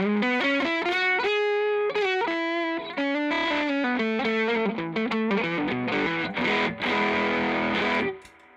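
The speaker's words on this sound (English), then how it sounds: "Here's the overdrive channel, the lead channel with the same guitar." Overdriven electric guitar, a 1966 Univox UC2 offset model run into an amp's lead channel, plays sustained distorted notes and chords that build into a dense, loud wash before cutting off near the end.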